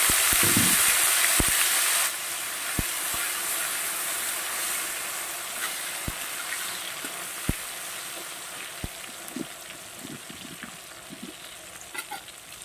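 Chopped tomato goes into oil with spices already fried in it, starting with a loud sizzle for about two seconds. A quieter, steady frying hiss follows, broken by scattered clicks of stirring.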